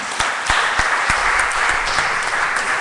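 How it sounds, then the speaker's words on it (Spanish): Congregation applauding the Lord during a Spanish-language Bible study on the Holy Spirit, a steady wash of clapping with a few sharp, distinct claps standing out near the front. "Den un aplauso al Señor."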